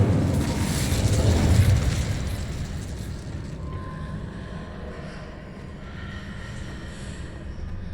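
A fire spell cast in Hogwarts Legacy, a loud whooshing burst with a rumbling low roar that swells over the first two seconds and then fades into a steady, quieter crackling hiss.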